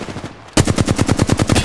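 A loud, fast burst of automatic gunfire in Apex Legends starts abruptly after a brief quiet moment, with evenly spaced rapid shots close by and no talking.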